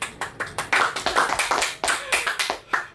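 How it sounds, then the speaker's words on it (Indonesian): A small group in a podcast studio claps briefly, with a dozen or so distinct, fairly quiet hand claps in an uneven rhythm and no voices over them. "Tepuk tangan dulu."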